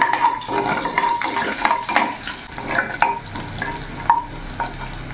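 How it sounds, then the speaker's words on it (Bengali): Chopped green chillies stirred in a pan over medium flame, giving a soft sizzle broken by repeated scraping and clinking of a spatula, close up with no talking. "এরই মধ্যে আমি এখন কাঁচা লঙ্কা কুচি দিয়ে দেবো।"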